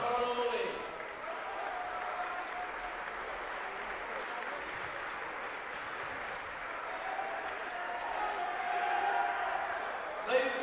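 Senior night at a high school boys basketball game, a gym crowd giving steady sustained applause for the 2013 section champion seniors, with a few distant whoops over the clapping.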